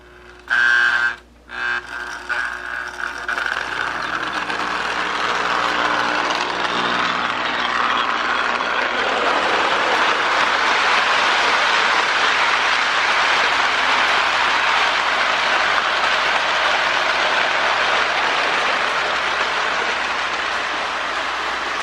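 A Marx E7 AB toy electric train with 19 cars starts up with a few clicks and then runs continuously, a steady whirring motor and rolling rumble close by that stays loud throughout.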